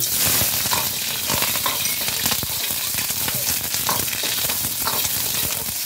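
Onions fry in hot oil in a pan with a loud, continuous sizzle, overlaid by scraping stirs and occasional light clinks, and no voices.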